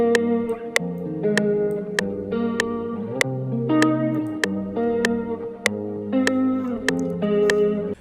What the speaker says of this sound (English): I like to change it from all reverb to shimmer, and it's going to sound like this.